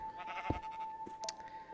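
A brown sheep in Minecraft lets out a short, wavering bleat, followed by a couple of quieter bleats over a faint steady tone.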